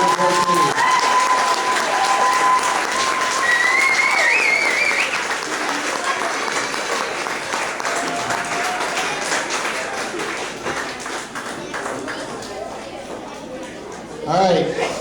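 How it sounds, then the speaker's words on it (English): Audience at a Cub Scout pack graduation and awards ceremony applauds a scout, a broad clapping wash that starts loud with a voice over it, then gradually thins and fades, ending with a brief louder bump. "Let's give a big round of applause for that."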